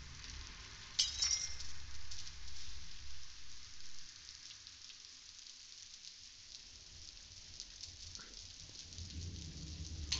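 Glass clinks in the Among the Sleep video game: a few sharp, bright chinks cluster early, then fade into a faint, hissing ambience with one small tap near the end.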